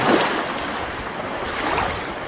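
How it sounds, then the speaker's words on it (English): Ocean waves surge and wash in a broad, steady roar with gusty wind noise, swelling slightly near the start and again toward the end, with no voices. "Waves."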